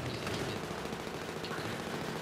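In the video game map Operation Metro, an RPK machine gun fires as a dense, continuous roar of rapid gunfire that sounds close and fairly loud, with no pauses and no voices.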